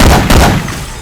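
Weapon fire in the game Left 4 Dead 2, reworked with Syphon Filter gun effects: two quick, loud, heavy bursts in about a second, the second fading away.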